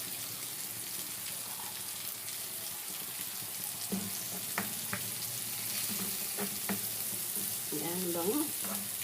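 Onions frying and being stirred in a pan, a steady quiet sizzle with a few utensil scrapes and clicks, and brief faint knocks of the pan near the end.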